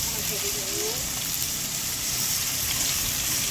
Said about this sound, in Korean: 지금 소나기 엄청 온대요.